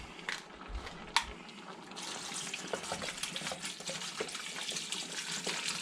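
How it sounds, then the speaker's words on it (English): Water pours steadily into a pot of red beans, a continuous splashing, gurgling rush close by after a few brief clinks and knocks at the start. "go ahead and put our water in here"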